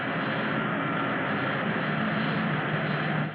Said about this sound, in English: Give me 3G boost, Winky. 3 Gs.